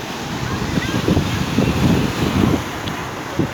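Big high-tide waves surge and wash onto Salthill Beach in Galway City, a loud rolling rumble of surf mixed with strong wind buffeting the microphone, with a few heavier breaking pulses.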